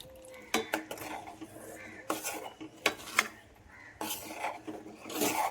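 Premixed powdered milk is poured and stirred into traditional payesh in a cooking pot, giving scattered clinks and scrapes of a spoon against the pot with wet rustling between them, close and fairly quiet.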